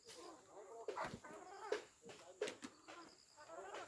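Chickens in a wired cage on a farm cluck and squawk in short repeated calls, a few louder close ones standing out over a faint background of other birds, quiet overall.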